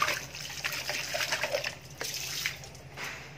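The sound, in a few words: bucket being rinsed under a running tap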